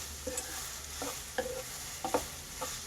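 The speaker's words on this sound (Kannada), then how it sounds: "ಈರುಳ್ಳಿ ಚೆನ್ನಾಗಿ ಫ್ರೈ ಆಗ್ತಾಯಿದೆ" Onions fry in a pan with a steady low sizzle, while a spoon stirs and scrapes in short irregular taps every half second or so.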